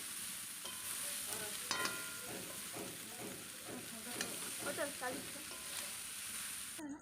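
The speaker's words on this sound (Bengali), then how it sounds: "চলো একটু আলুগুলো ভালো করে নেড়ে ভেজে নিব" Potatoes stirred and frying in a pan in a village kitchen: constant sizzling with repeated scraping strokes of a spatula against the pan, close and clear, with no talking.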